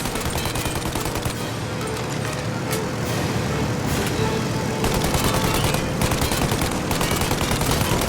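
Gunfire in the Mafia video game, with continuous heavy bursts of automatic shots and booms over engine noise, dense and loud throughout, with shouted voices mixed in.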